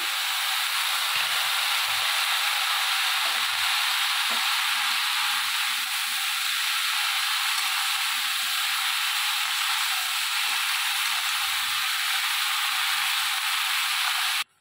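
Washed and drained bottle gourd pieces added to a kadai still hot and oily from frying prawns, giving a loud, steady, close sizzling hiss that continues throughout and cuts off abruptly at the end.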